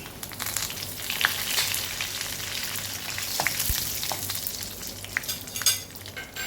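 Fenugreek seeds, dried chilies and curry leaves sizzle steadily in hot oil, a dense close crackle with scattered sharp pops and a few stirring scrapes throughout.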